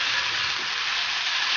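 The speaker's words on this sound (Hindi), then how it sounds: "उसके अंदर डाल देंगे लहसुन और अदरक का पेस्ट, हल्का सा इसे 10 सेकेंड 20 सेकेंड फ्राई करेंगे" Garlic and ginger paste fries in a pan, a dense, even, close sizzling hiss that stays loud and steady without pauses.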